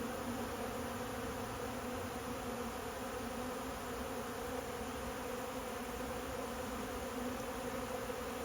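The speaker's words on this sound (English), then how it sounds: "Look at all the bees." Honey bees swarm over wet honey frames set out after extraction, a dense, steady buzzing hum from many insects close by, continuous and unbroken.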